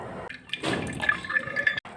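Water from boiled gongura leaves being strained off in a home kitchen, a short run of splashing and dripping liquid with a steady trickling texture at moderate level, no talk.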